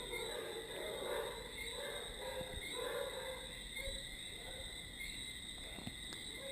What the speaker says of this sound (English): it would be very romantic, all the crickets chirping